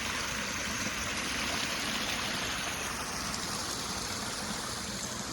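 Muddy, silt-laden rainwater rushing steadily through a full channel after heavy rain, a continuous broadband wash of flowing water, loud and close, with no voices.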